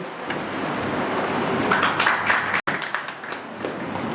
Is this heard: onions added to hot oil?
no